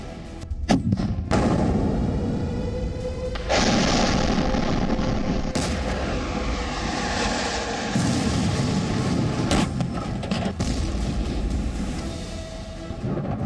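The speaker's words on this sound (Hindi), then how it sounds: "इन्हीं दिल बैठा देने वाले धमाकों की आवाज के साथ" Russian cruise missile explosions over Kyiv at night: several heavy thuds and booms hit in irregular succession, loud and jarring, separated by stretches of rumbling noise.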